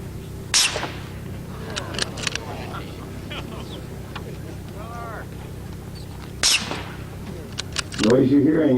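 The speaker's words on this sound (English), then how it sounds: "The noise you're hearing is virtually all downrange with the hypervelocity bullet." Two sharp, cracking shots from a suppressed Ruger Mini 14 firing full-power .223 hypervelocity ammunition outdoors, spaced several seconds apart, each a loud snap with a brief tail, over outdoor background noise.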